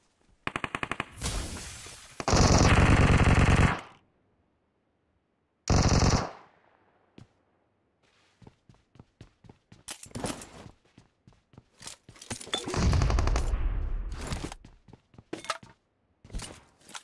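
A Thompson submachine gun fires in PUBG Mobile, with loud sustained full-auto bursts alternating with quieter single and short shots, separated by gaps of near silence.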